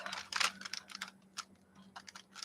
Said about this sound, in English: I'm going to take the tape off